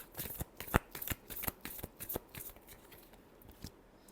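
Tarot cards are shuffled by hand in a quiet room, a close run of crisp riffling flicks and slaps, brisk at first, then softer and more spaced out toward the end.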